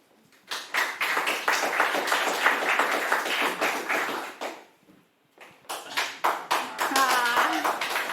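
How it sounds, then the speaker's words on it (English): An audience claps for scientists at an improv and biomedicine science event: a loud burst of clapping that stops, leaves a brief near-silent gap, then rises again in a second round with a voice talking over it. "please, scientists, stand in front of us for the final clapping"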